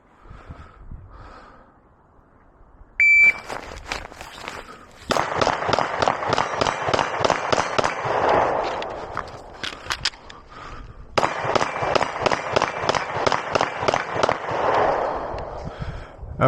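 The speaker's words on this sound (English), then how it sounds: "we're going to draw, shoot 10, moving to the right, reload once I reach the opposite end, and we're going to shoot 10, moving to the left" A Glock 26 pistol fires about twenty rapid shots in two strings during a lateral moving drill, sharp loud cracks in quick even rhythm, with a short reload pause between the strings and a beep starting the run.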